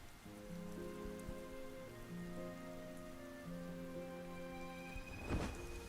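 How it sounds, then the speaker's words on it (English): In the video game Sky: Children of the Light, rain patters faintly and steadily against a soft musical backdrop, with a brief rumble of thunder near the end. "I've been seeing this rain glitch occasionally here today."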